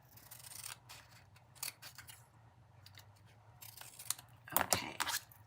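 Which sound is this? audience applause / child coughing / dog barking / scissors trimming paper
scissors trimming paper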